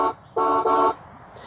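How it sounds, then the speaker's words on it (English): A Best Choice Products ride-on toy truck's horn button gives a short electronic honk, then a second longer double-pulsed honk, close and clear with no talk. "You've got a horn,"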